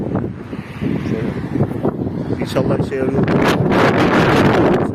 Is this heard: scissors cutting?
no